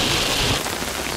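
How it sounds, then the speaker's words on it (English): Heavy rain falls outdoors during a venomous snake release, a dense, steady hiss of drops hitting surfaces that stays loud and unbroken throughout, with no voices. "So it's raining pretty hard"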